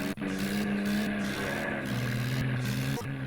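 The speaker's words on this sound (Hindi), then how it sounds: "ट्रैक्टर को खेत से निकालकर घर की ओर मोड़ देता हूँ" Tractor engine in the Indian Vehicle Simulator video game, a steady droning hum with shifting pitch and a faint rhythmic pulsing, loud and close, with no voices over it.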